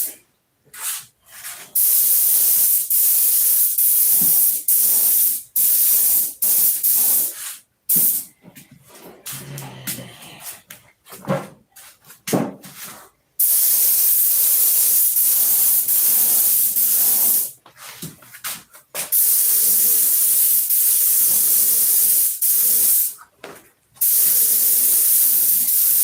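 A spray gun hisses in bursts while laying down a light dust coat of paint, loud and close, with several long sustained sprays separated by brief pauses.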